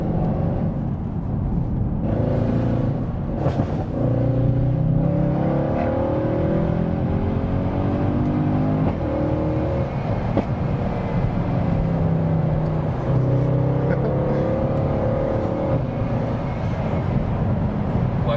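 Mercedes-Benz C63 AMG with an automatic, non-DSG gearbox and open differential pulls hard from inside the cabin, engine drone rising and dropping through quick successive gear shifts, a steady loud roar the whole time.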